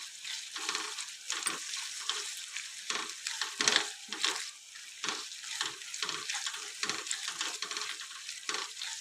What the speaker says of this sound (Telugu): ఇప్పుడు మన టమాటా అయితే మంచిగా ఆయిల్లో ఫ్రై అవుతుంది.